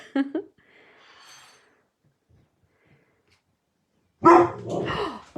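A small dog gives a short bark at a passing car, then a long quiet stretch. A louder burst of yappy barking follows near the end, close to the recorder.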